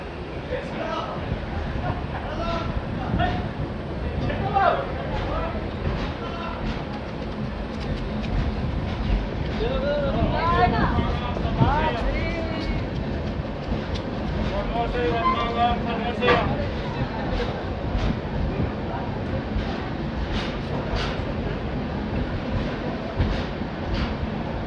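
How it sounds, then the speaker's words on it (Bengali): The Jan Shatabdi Express pulls away from Kharagpur on its Bhubaneswar to Howrah run, with steady rumble and rattling from inside the coach under continuous passenger chatter. "খড়গপুর থেকেও ট্রেন ছেড়ে দিয়েছে"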